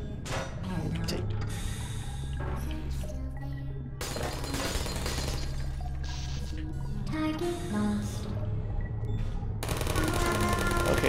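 Turret gunfire in the video game Portal comes in rapid bursts broken by short gaps, with game music and mechanical sounds around it and a voice speaking at times.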